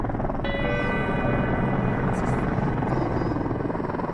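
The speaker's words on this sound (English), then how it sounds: "It's 24 hours before we see our first helicopter." A rescue helicopter on Mount Everest drones with a loud, steady rotor and engine whine that holds evenly from start to finish, close and dominant.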